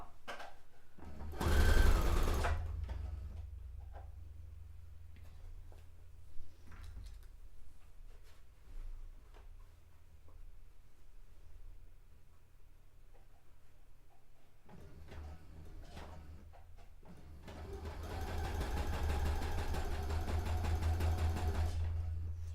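A sewing machine stitches a guide line in fabric, running in a loud burst, then a quieter stretch of faint handling clicks, then a long steady run of stitching.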